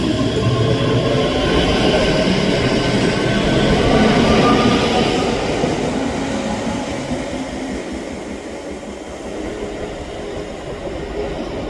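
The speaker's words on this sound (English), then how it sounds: "Departing out now is the 12:32 Scotrail service from Edinburgh Waverley to" A Scotrail service pulling out of Edinburgh Haymarket station, a steady loud rumble of wheels and engine that swells, then gradually fades as the train moves away.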